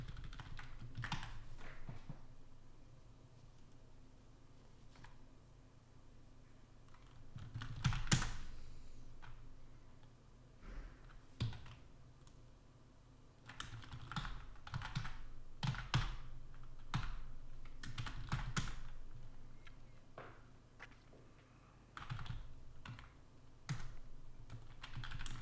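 Someone types on a computer keyboard in irregular bursts of quick clicking keystrokes with occasional heavier key thumps, close but faint, with pauses between runs and no talking.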